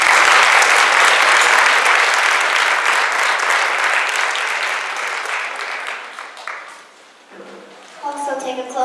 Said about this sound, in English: Let's give our art department a round of applause